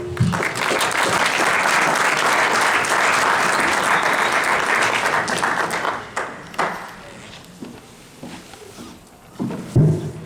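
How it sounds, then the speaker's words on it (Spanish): Loud, sustained audience applause greets a lecturer at a talk for an Argentine Catholic university audience, holding dense and even for about six seconds before thinning into scattered claps and room noise. "Recibimos con un fuerte aplauso"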